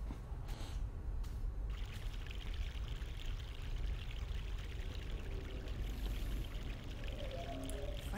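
A mountain stream in the game The Longest Journey runs in a steady, close rushing and pouring flow, with faint gurgles, and no speech.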